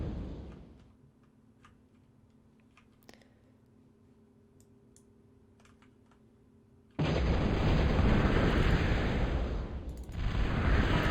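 A Total Annihilation battle on the Great Divide map: faint scattered clicks and distant pops give way to a sudden loud, sustained roar of explosions and Commander D-gun blasts that dominates the rest.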